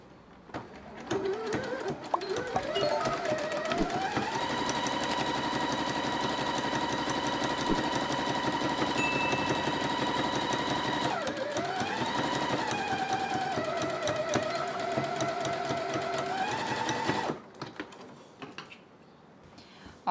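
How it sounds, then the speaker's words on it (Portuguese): A sewing machine runs a zigzag safety stitch along a fabric edge, a steady, fast, close whirring motor hum with rapid needle ticking, speeding and slowing twice before it stops. "depois eu passo um zigue-zague aqui ou uma costurinha de segurança bem na beiradinha"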